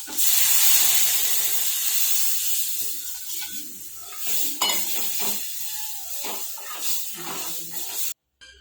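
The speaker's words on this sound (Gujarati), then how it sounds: "હવે લીલા મરચાં કડી લીમડો પણ નાખીશું અંદર" Green chillies and curry leaves hit hot tempering oil for a Gujarati kadhi, bursting into a loud hissing sizzle that gradually settles, with utensils clinking against the pan and a sudden stop at the end.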